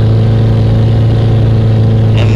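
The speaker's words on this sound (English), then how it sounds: "You'll hear my high revs as I'm going up this incline" A four-wheel-drive vehicle bush bashing on Maize Island holds high revs as it climbs a steep incline, a loud, steady engine drone close to the listener with a brief rattle near the end.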